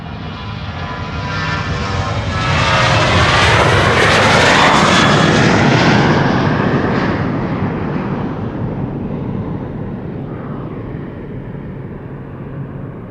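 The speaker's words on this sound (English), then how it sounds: "And we have Ryanair to Dublin first taking off here. 737-800." A Ryanair Boeing 737-800 takes off from Amsterdam Schiphol for Dublin. Its jet engines give a loud, broad roar that swells to a peak over several seconds and then slowly fades as the plane climbs away.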